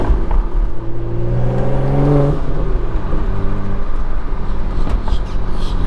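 A 2013 BMW 135i with the N55 turbocharged engine and its window down revs and accelerates, a loud rising exhaust drone that climbs in pitch over the first couple of seconds, then settles into a steady, throaty rumble.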